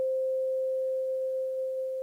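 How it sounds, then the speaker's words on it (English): A pure A440 sine tone from a Reason synthesizer holds steady and unbroken for about two seconds, clean and fairly loud with no other sounds. "that's the A440 that will be generally shot out when we try to make a sine wave"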